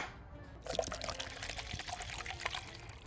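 Water is poured into a cup in a home kitchen during a children's birthday meal. A sudden splash starts a steady, close trickling stream that runs on at moderate volume.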